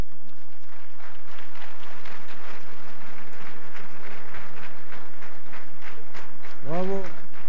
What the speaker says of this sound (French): Voilà, il faut les applaudir.